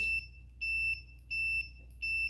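A continuity tester buzzer beeps four times in steady, evenly spaced pulses, loud and close, each tone lasting about a third of a second.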